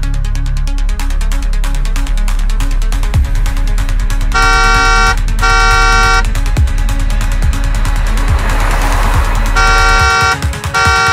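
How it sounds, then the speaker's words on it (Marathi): A car horn sounds in two bursts of repeated honks, close and loud, over steady engine and traffic noise on a road. "तोपर्यंत मी तुमच्या गाडीत बसून हॉर्न वाजवतो"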